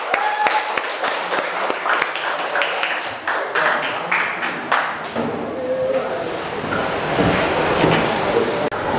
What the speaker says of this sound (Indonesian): Kita berikan aplaus dulu biar semangat.